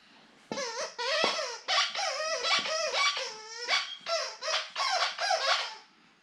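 A dog plays loudly and close by, giving a long run of rapid high squeaks and yelps in bursts that sound like a squeaky toy mixed with excited whining barks, with no talk over it.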